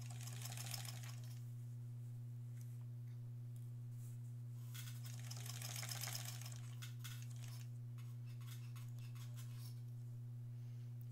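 A sewing machine stitches an embroidered Halloween tote bag in several short bursts of rapid mechanical whirring, close by, over a constant low electrical hum.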